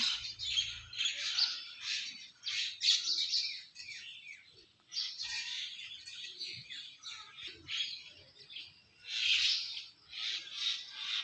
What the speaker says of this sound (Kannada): ಪಕ್ಷಿಗಳದ್ದು ಚಿಲಿಪಿಲಿ ಅನ್ನೋ ಶಬ್ದ ಅಂತೂ ತುಂಬ ಚೆನ್ನಾಗಿ ಕೇಳಿಸ್ತಾ ಇದೆ